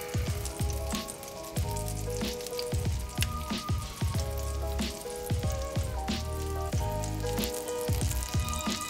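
Chicken cutlets for chicken francaise fry in a pan with a steady crackling sizzle, heard under rhythmic background music with repeating low thumps.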